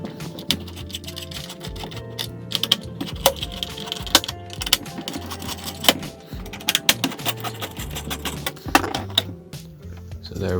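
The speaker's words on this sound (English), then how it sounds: "We have to take off like all those 4 screws that hold the heatsink." Small screws holding the heatsink of an HP Compaq 8000 Elite Ultra Slim desktop are backed out, making faint clicking, ticking and tapping sounds that come and go over a low background hum.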